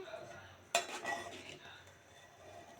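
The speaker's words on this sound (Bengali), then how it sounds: "তো এখানে আমি তারপরে আমি মাংসটা এখানে নেড়ে আবার একটু নেড়ে ছেড়ে দিলাম।" A spoon stirs pigeon meat in a cooking pot: one sharp metallic scrape and clink, then a brief soft stirring rustle, faint and close over a quiet background.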